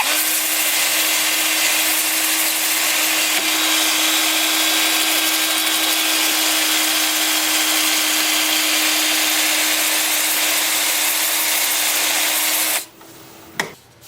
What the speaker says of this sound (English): with the lathe spinning forward at about 350